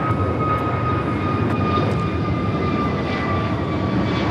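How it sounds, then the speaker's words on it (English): WestJet jet airliner going around at LAX, a steady loud roar of engines with a faint whine, close and continuous throughout without talk. "WestJet 1510 going around"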